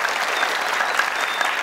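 Studio audience on a Pashto-language Family Feud–style quiz show applauding steadily, a dense even wash of clapping that holds at a constant level throughout.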